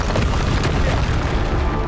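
A Bombarda explosion spell blasts during combat in the Hogwarts Legacy video game, a dense, sustained booming rumble filling the whole moment with steady loudness and no talk.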